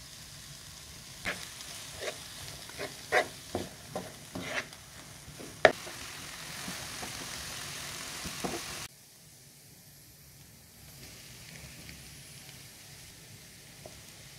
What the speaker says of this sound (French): Dans une poêle, je verse l'huile et je fais revenir les oignons, les poivrons et l'ail.